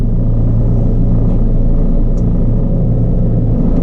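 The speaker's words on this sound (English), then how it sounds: "Running over the pallets." A JCB 53170 telehandler rolls over wooden pallets on a farm, giving a steady, loud low engine rumble with constant drone throughout and no distinct crunches standing out.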